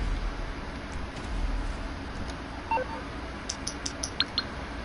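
Phone dialing in the video game GTA Online, a few soft, short electronic tone beeps in a quick sequence over a steady low background hum, fairly faint.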